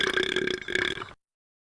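A single loud, close burp rumbles for about a second and then cuts off abruptly into silence.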